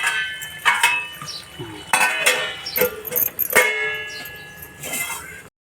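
Metal lid set down on a pot of sprouted moong curry cooking in a home kitchen, giving a few sharp clinks and clatters spread across several seconds.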